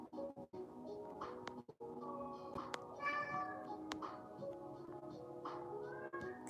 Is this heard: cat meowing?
yes